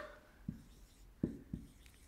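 Marker or chalk writing on a classroom board in red, heard as three faint, separate taps or strokes against a quiet background, with no talking.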